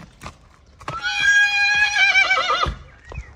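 A large mare gives a loud, close whinny lasting under two seconds, rising then wavering as it fades, with hoof thuds and stable noises around it.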